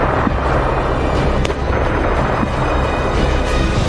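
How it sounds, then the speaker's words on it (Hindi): Heavy explosions from the Ukraine–Russia war rumble as a dense, continuous roar with a sharp crack partway through, loud and sustained with no speech. "ये धमाके याद कीजिए।"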